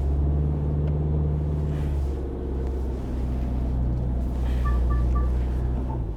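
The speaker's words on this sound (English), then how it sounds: "Again, constant throttle, about 10 k's an hour into it. And it's flat to the board." A medium SUV's engine held flat out at full throttle in off-road mode, crawling at about 10 km/h, gives a steady loud droning rumble with strong low harmonics that stays constant throughout, with faint electronic beeps near the end.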